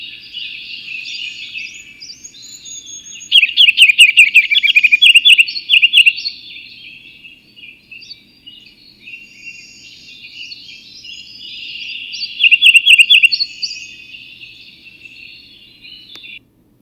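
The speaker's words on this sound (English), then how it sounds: "So I always think of the ruby-crowned kinglet" A ruby-crowned kinglet sings alone in a clear, high, steady warble, breaking twice into louder rapid trilling bursts before settling back to thin chatter.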